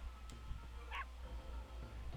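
A dog in the video game The Legend of Dragoon gives a short yip or bark, quiet and brief over a low steady background hum.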